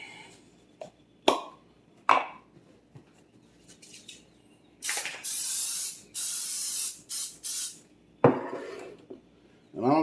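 Cooking spray hisses in several short bursts into a hot, newly restored Lodge #5 cast iron pan, loud and close, between quieter clinks and handling noises.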